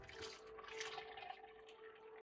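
Water pours onto rice in a cooking pot with a soft, steady splashing and trickling, faint and close, ending abruptly with no voices.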